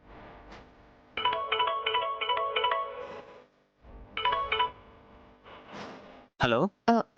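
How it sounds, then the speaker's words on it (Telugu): A telephone plays a melodic ringtone in two clear bursts with a short gap between them, heard close and alone, before a voice starts speaking at the end. "శ్యామ, ఒకసారి నువ్వు అరుణ నీకు ఫోన్ చేసి కనుక్కో."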